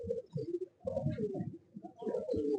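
A flying pigeon with a closed tail gives several throaty coos in quick succession, close and clear against a quiet background, with short pauses between bursts.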